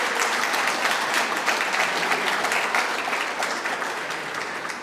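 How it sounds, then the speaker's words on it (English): Sustained crowd applause for the year's graduates at a 2022 Crosspoint lunch event, steady dense clapping filling the room throughout without a break. "Can we have another round of applause for those graduates of the year?"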